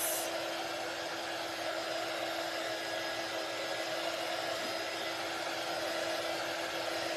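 A handheld drying tool blows steadily onto wet paint on a wooden craft block, a continuous close-up whooshing hiss that holds at an even level with no talking.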